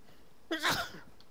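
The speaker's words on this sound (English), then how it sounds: "Sneezes." A single short, sharp sneeze bursts out close by against quiet background during an online shooter game session.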